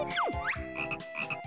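Frogs croak repeatedly in Banjo-Kazooie, a quick series of warbling, pitch-sliding game croaks over a steady musical drone, loud and close with no talking.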